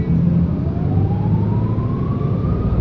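Diesel bus engine running at the rear of a Thai bus while cruising, a loud steady low drone with a slowly rising whine as it pulls, heard from inside the cabin without talk.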